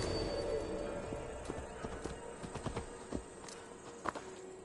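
Horse hooves clopping in Assassin's Creed Valhalla, a series of irregular, fairly faint thuds over steady ambient game background, with one sharper knock near the end and no talking.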